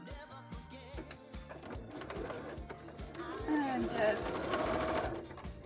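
A sewing machine stitches a cosplay petticoat with rapid, rhythmic mechanical clatter in short and longer bursts. A voice speaks briefly over the stitching.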